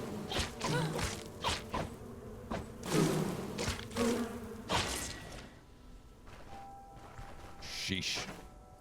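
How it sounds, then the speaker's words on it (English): Bees buzzing in the fantasy role-playing game Stoneshard, repeated insect drones rising and fading over several seconds amid thuds and game effects, with someone talking over much of it. "Oh my God, there's at least 2 bees left."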